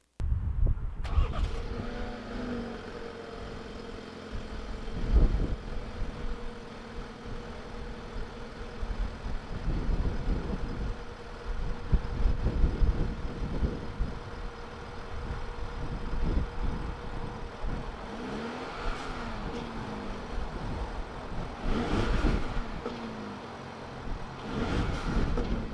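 A 2018 BMW X2 engine cranks and fires, then settles into a low, steady idle, with intermittent thumps and handling noises nearby; moderately quiet, no talking.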